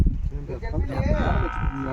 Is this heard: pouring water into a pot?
no